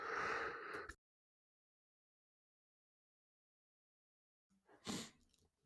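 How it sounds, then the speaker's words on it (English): A short noisy burst, then a long stretch of silence before a single sharp, breathy sneeze close by. "2 seconds, I need to sneeze."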